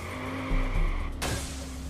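A car in the Watch Dogs video game drives with a steady engine drone, then a sudden harsh skid cuts in partway through and lingers until the end.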